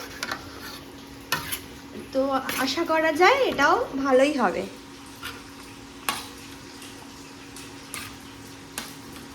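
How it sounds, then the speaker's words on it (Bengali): Fried items cook slowly for khichuri bhog on an induction cooker with a fault: a soft sizzle with occasional utensil clinks and stirring scrapes, while a person talks over it for a stretch. "এই ভাজাগুলো একটু ধীরে ধীরে ভাজছি"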